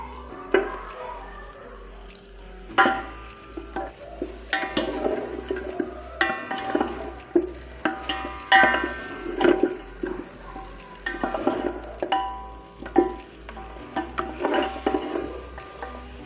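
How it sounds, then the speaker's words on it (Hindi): Goat trotters go into a pot with whole spices such as cardamom, bay leaf, cloves and cinnamon, giving a close sizzle of frying with repeated scraping and stirring clatter throughout. "अब मैं पाए डालने लगी हूँ।"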